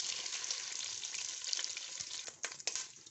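Beef frying in hot oil in a pan while cooking Kabuli pulao gives a steady, close sizzle, with a few sharper crackles and bursts near the end.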